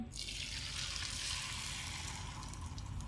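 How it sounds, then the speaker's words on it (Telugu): Omelette batter mixed with onions sizzles steadily in hot oil, a dense, even hiss that holds at a constant level throughout, with no voices. "ఇప్పుడు ఆయిల్ వేడెక్కింది, ఆయిల్లో వేస్తున్నాను"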